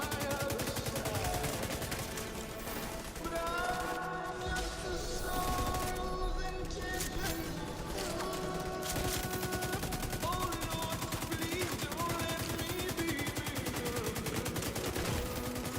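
Continuous gunfire from a fight against tanks in The Division 2, a steady rattle of rapid shots beneath talk and a music bed, fairly faint and unbroken for the whole stretch.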